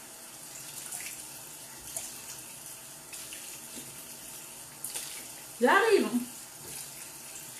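Lukewarm water from a tap runs briefly into a sink, a short close splashing gush near the end, while someone talks quietly and small handling noises sound around it.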